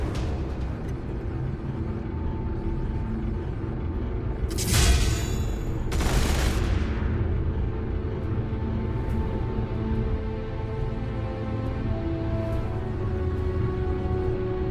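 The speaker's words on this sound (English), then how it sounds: "Surprise turret!" Turret in the Warhammer 40,000 video game firing two sharp loud bursts a little over a second apart, standing out above a steady low game ambience.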